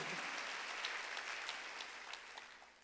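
A church congregation claps during a Korean Sunday worship service, a dense, sustained wash of applause that gradually softens toward the end.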